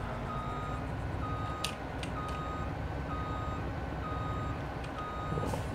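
Repeated reversing beeps from a truck in the Farming Simulator 22 video game, steady evenly spaced tones over a constant engine rumble, fairly quiet throughout with no talking.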